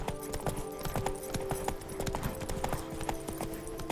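Horse galloping in The Witcher 3: Blood and Wine, steady rapid hoofbeats in a continuous rhythm over a constant low hum, close and moderately loud.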